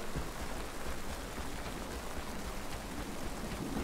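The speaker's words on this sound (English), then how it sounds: "Who likes the sound of rain?" Rain falls in the video game Pid, a dense, steady hiss of drops spread evenly across the whole stretch, soft but continuous with no voices over it.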